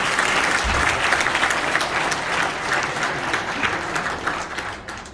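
Warm applause rises from a crowd of dinner guests at a Cypriot federation banquet, honouring the First Lady. It is a sustained roar of many clapping hands that slowly tapers toward the end.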